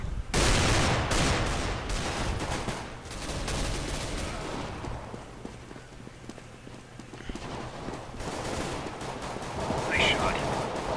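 Gunfire in the shooter CS:GO, scattered shots and short bursts through a busy match mix, loud at the start and end, with a voice talking over parts of it.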